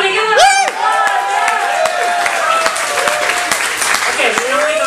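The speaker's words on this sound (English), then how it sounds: "Everybody give him a round of applause." A theatre-style audience at a cruise ship staff talent show applauds steadily and loudly for the full length, with whoops and chatter mixed through the dense clapping.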